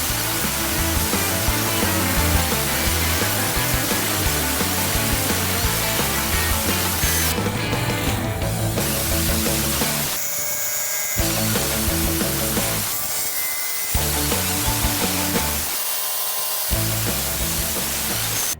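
Power tool cutting strips from 1/16 inch thick metal sheet for a barrel repair, a loud continuous grinding whine that runs steadily with several brief pauses and restarts.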